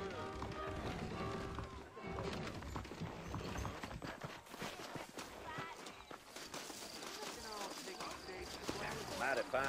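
Horse hooves clip-clop at a walking pace on a trail in the video game Red Dead Redemption, rhythmic clopping mixed with other game sounds and voices talking.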